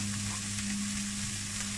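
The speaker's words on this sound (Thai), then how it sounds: "เราจะผัดให้เขานิ่มๆหน่อยเนาะ" Oil frying in a pan while making shrimp paste fried rice, a dense, constant sizzle over a low steady hum, short and unbroken with no talking.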